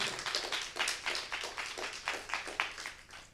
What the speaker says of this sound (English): Everybody please give Matt a huge round of applause.